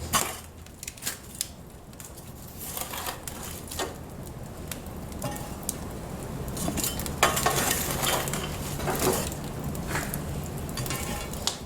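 Hot coals scraped and piled onto the rimmed lid of a cast-iron Dutch oven at an open hearth: scattered metallic scrapes, clinks and gritty shuffles over a steady low crackle, fairly close, with no talk.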